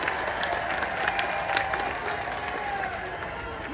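A large crowd applauds steadily at a welcome ceremony for the Haryana chief minister in Jind, with dense, continuous clapping and a few louder bursts throughout.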